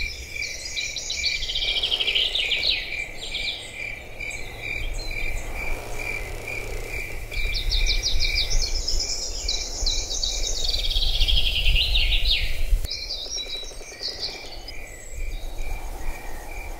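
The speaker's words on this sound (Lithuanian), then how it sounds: "Čia galime klausyti natūralius medžių ošimo, paukščių, svirplių kuriamus garsus." Crickets keep up a continuous high trill on a rooftop among trees while birds sing in repeated bright bursts over it, with a faint rustle of leaves beneath.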